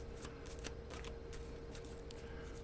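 An overhand shuffle of a deck of playing cards, a run of soft papery riffles and flicks repeating in irregular bursts, fairly quiet over a steady low background hum.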